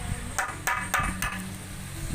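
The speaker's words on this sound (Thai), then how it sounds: "ตอกตะปูกับตัววงกบนะครับเพื่อเวลาที่เราขึ้นไปเนี่ย เขาจะได้มียึดกับปูนได้บ้างนะครับ" A hammer drives nails into a wooden door frame during a window-to-door DIY conversion: four or five sharp knocks in an uneven rhythm, close and clear over a quiet room, with no speech.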